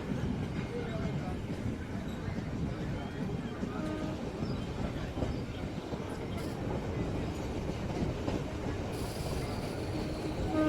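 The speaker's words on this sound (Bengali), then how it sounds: "আমাদের ট্রেন এখন বীরনগর স্টেশন ছেড়ে চলেছে তার পরবর্তী গন্তব্য তাহেরপুরের দিকে।" A MEMU local train on the Ranaghat–Lalgola line runs on after leaving Birnagar station, with a steady close rumble of wheels and rails and occasional squeals, all under a faint voice.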